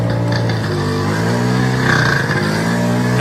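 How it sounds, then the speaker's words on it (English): A moped engine runs close by and revs up, its buzzing drone rising and falling, with no talking over it. "hopefully my moped doesn't die because it likes to die"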